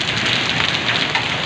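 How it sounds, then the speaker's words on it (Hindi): Heavy rain pours steadily with large hailstones falling, a dense continuous hiss and patter close by with no talk over it. "बारिश भी बहुत स्पीड में हो रही है और ओले भी पड़ रहे हैं"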